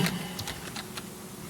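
Quick, light clacks of fingers typing on a computer keyboard in a computer lab, a short burst of close, crisp keystrokes at an uneven rhythm.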